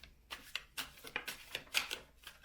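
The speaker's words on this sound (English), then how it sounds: "I'm just shuffling and talking as we do that" Tarot cards shuffled by hand, a quick run of soft papery riffles and slaps in irregular bursts, fairly close and quiet, with no talking.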